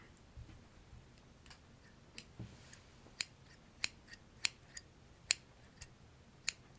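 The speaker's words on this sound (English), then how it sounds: "Their scissors are always really good as well. They're always super sharp." Sharp scissors snipping repeatedly in a quiet room, a series of crisp close clicks, sparse at first and then roughly every half second, with no talk over them.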